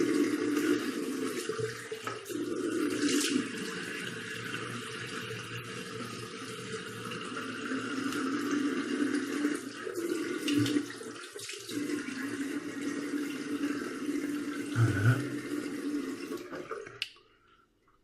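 Tap water runs and splashes steadily for about seventeen seconds as a face is wetted at a bathroom sink before shaving with a shaving stick, the flow fairly close and continuous, then stopping abruptly near the end.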